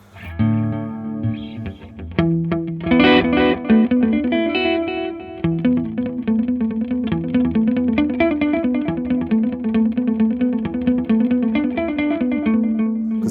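Electric guitar played through a Jim Dunlop EP101 preamp pedal into an Echoplex EP3 tape delay, giving a continuous run of sustained, gritty, slightly chorused chords and notes with echo trails, loud and close.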